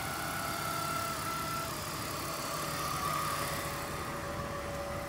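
A car engine running with an abnormal noise: a steady, continuous drone carrying a persistent whining tone that holds for the whole stretch, close and fairly loud, with no talking.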